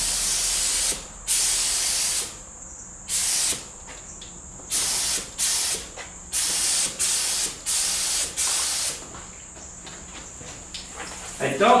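A heavy coat of ice crystal paint goes on from an aerosol can during a motorcycle build: about nine loud, sharp hissing spray bursts of one to two seconds each, close by, separated by short pauses.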